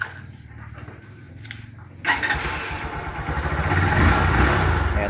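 A motorcycle engine starts partway through and then runs with a loud, steady, rough idle rumble, close by with no talk.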